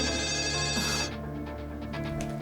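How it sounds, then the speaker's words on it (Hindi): A telephone rings loudly with a sustained electronic tone, then cuts off abruptly partway through, leaving quieter background sounds. "इस फोन को भी अभी बजना था।"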